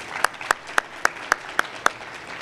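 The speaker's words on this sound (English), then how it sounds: "Students, let's give them a round of applause." Students clap at a high school Christmas concert in a gym or hall: seven sharp, evenly spaced claps stand out over a low, steady crowd background.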